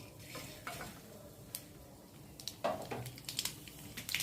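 Mustard seeds fry in hot oil in a pan, crackling and hissing softly with sharp pops and a few metallic stirring scrapes, quiet and close with no talk.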